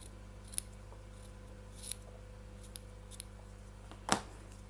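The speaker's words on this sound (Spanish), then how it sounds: "lo que sobra de lana cortamos" Scissors snip through leftover wool yarn while finishing a crocheted flower, giving a few faint, sparse clicks spread across a quiet background, with one sharper closing snip near the end.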